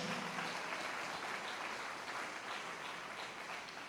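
A church congregation claps together in steady applause, a dense wash of hands filling the space throughout at moderate loudness, with no voices over it.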